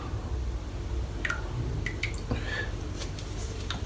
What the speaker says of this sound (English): Tiny little bit of water just in the bottom there, as you can see, and straight in with the brush.